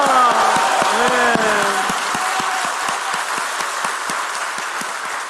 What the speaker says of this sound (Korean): 하나님께만 우리 감사의 박수 올려드릴까요?